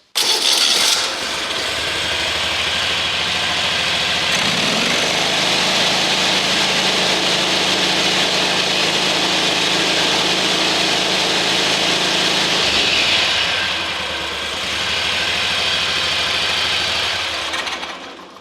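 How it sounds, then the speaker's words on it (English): A zero-turn mower engine with an electrical fault and loss of power, firing on only one cylinder, starts and runs steadily at close range with a rough, uneven drone, shifting pitch partway through before settling again; no voices. "Runs pretty good on one cylinder"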